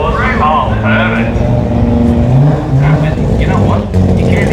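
Mazda RX3 race car at Willowbank Raceway, its engine revving loudly with rising and falling pitch as it accelerates, heard under excited nearby talk.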